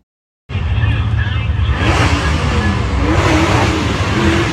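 A 1971 Ford Maverick Super Stock drag car with a Boss 302 engine and stick shift revs loud and close, a sustained high engine roar starting abruptly and holding steady, rising in intensity partway through, under crowd and track noise.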